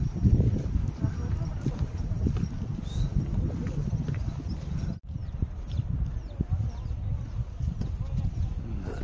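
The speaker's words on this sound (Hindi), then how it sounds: "ऊपर से घोड़ा वाला" Horse hooves clip-clop along a mountain hill track on the Amarnath Yatra route at a steady walking pace, close by. Voices and outdoor bustle continue underneath, with a brief dropout partway through.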